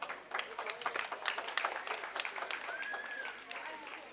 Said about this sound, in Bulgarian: По-големи аплодисменти, да.